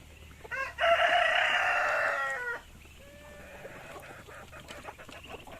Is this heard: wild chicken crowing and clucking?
yes